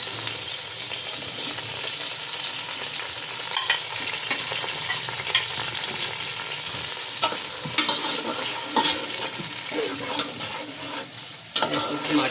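Tomatoes frying in a pot of mixed vegetable rice, a continuous close sizzle with intermittent stirring clatter and occasional louder bursts as the pot is worked.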